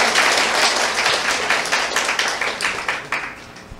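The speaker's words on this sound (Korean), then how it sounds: "우리 박수 한번 네 쳐봅시다" Audience applause at a Korean sales seminar, a dense crowd clapping loudly and steadily, then gradually thinning out toward the end.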